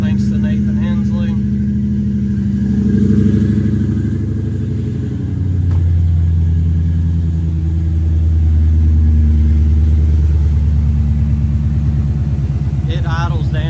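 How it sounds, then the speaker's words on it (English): A Ford Coyote V8 swapped into a New Edge Mustang idles steadily after starting, settling into a low, even rumble close by, with someone talking over it throughout. "After about 10 seconds, the idle goes down to about 800, 900, and it just purrs like a kitten"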